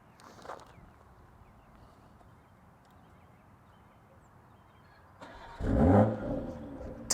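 A 2022 BMW M440i xDrive Gran Coupe engine fires up by remote start from the key fob after a quiet wait, a loud burst of cranking and revving near the end before settling into a steady idle.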